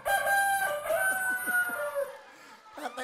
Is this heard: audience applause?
no